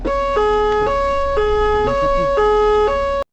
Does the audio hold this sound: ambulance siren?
yes